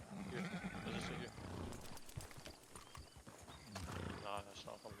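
Horse in the RedM role-play game, New Austin setting, clip-clopping hooves and a whinny under ongoing talk and game noise, fairly close and steady.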